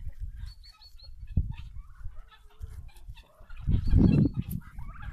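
Hens pulling worms from rain-soaked ground give quiet, scattered clucks nearby, rising to a louder flurry of clucking near the end.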